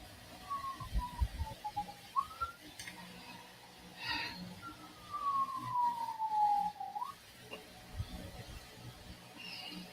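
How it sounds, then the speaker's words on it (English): Emergency vehicle siren on the next block, its wailing tone faint and distant, rising and falling in a few long sweeps over quiet room noise with small clinks. "You might want to look and see if that siren's coming in the house."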